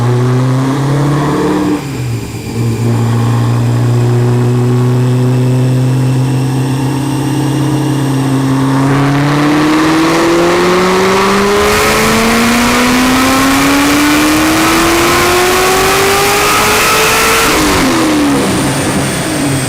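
A stage 5 supercharged Corvette C6 Z06 running pump gas and methanol revs hard up close, its deep engine note climbing steadily with a rising supercharger whine, then dropping back sharply near the end.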